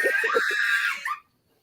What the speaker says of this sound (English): was that somebody screaming?